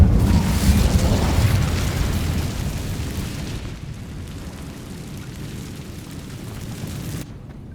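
A fiery Incendio spell goes off in Hogwarts Legacy, a loud roaring burst that rumbles on and fades over several seconds before cutting off sharply.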